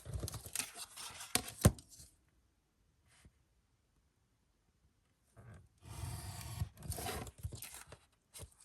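Scissors cut out a paper piece for a craft folio project, giving close, crisp snipping and rustling bursts at the start and again near the end, with a quiet pause between.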